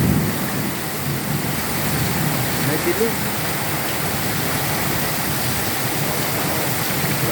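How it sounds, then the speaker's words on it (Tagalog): Heavy typhoon rain and wind pour down in a dense, continuous roar that holds steady throughout, with a brief spoken voice partly under the downpour. "Grabe buhos ang ulan sa hangin."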